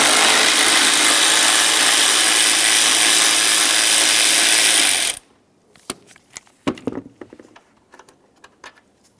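Ratchet or power tool whirring loudly and steadily on an 8mm bolt at the radiator cooling fan of a 2003-2011 Mercury Grand Marquis, then stopping, followed by scattered clicks and metallic clanks.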